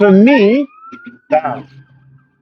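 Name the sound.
police sirens passing in the street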